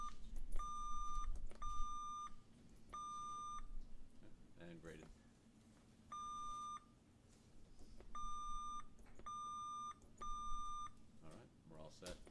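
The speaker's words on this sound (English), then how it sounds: "we're going to do a quick check of your buzzers" Quiz bowl buzzers at a Knowledge Bowl finals match sound off one after another during a buzzer check, a string of short, bright electronic beeps at regular intervals, with an official talking between them.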